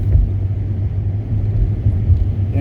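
Hyundai Elantra rental car driving through a snowstorm in Connecticut, with a steady low road rumble and engine drone from inside the cabin, continuous and fairly loud with no talk.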